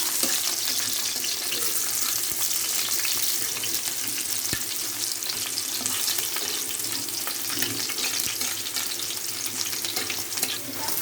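Onions sizzling loudly in a pan for cabbage bhaji, a dense continuous frying hiss that stays close and even throughout with no voices.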